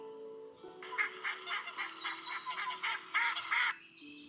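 A duck quacks repeatedly in a rapid, rhythmic run of nasal calls, fairly close, over a soft sustained tone.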